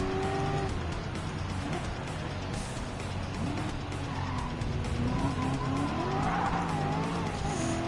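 Race cars roar around a track at Laguna Seca in Gran Turismo 7, engines droning steadily with tires squealing and skidding through corners, loud and continuous throughout.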